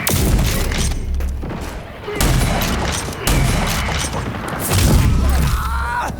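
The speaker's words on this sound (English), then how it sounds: "Essentially you're firing detonation darts onto things and then left triggering to explode" Detonation dart pistol explosions in Rage 2 come as loud, heavy booming blasts in several bursts, with deep thuds and crashing debris layered over continuous rumbling combat.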